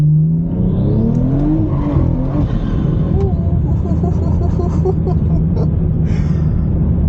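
A tuned car accelerates hard on a straight road, its engine heard loud from inside the cabin, revs climbing steadily in pitch after a brief low start, with a continuous whining roar through the pull.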